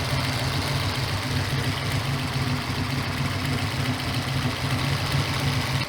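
An engine idles steadily in a car, a constant loud low rumble with a fine rhythmic pulse and broad mechanical hiss, unchanging throughout with no voices.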